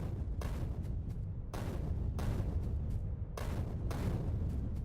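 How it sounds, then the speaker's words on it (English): Grenades bursting in Factorio, several muffled booms arriving at uneven intervals of about a second, each with a short rumbling tail, over a steady low background and with no talking. "Let's clear these out with grenades a little bit faster."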